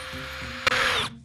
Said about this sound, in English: That's why I like using these long drill bits when I'm making these countersink holes.